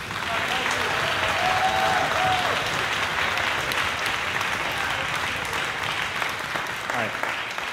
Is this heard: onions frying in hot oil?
no